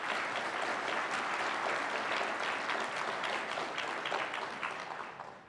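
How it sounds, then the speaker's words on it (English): Audience at a regional science and engineering fair awards ceremony claps in a sustained wash of applause, dense and even, tapering off slightly at the end with no speech over it. "Let's give them a round of applause."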